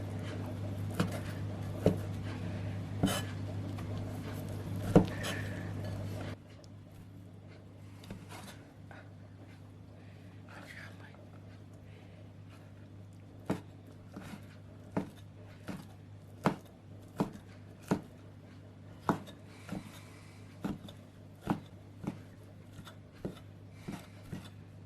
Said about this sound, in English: Cut up some dried scallops and small shrimp.